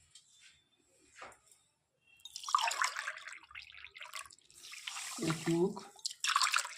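Water poured from a mug into sugar to make syrup for bread gulab jamun, a splashing, trickling stream in a few bursts, with a voice speaking briefly at the start.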